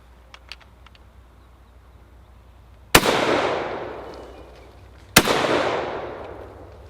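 Two loud, sharp shots from a German G41 rifle fired outdoors a couple of seconds apart, each with a long ringing echo decaying behind it after a quiet lead-in.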